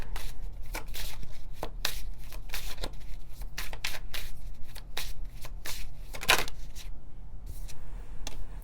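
Tarot cards shuffled by hand to draw one more card, a steady run of soft papery riffles and light slaps with a few sharper clicks, close and fairly quiet throughout.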